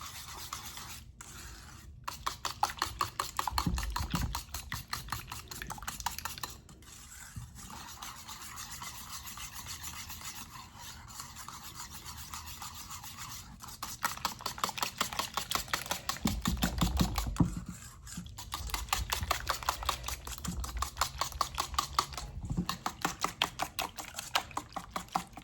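Whole milk and flour whisked together in a bowl for a chile rellenos casserole, a steady rapid scraping and rubbing rhythm that runs close and continuous, with a few brief pauses and louder low thumps.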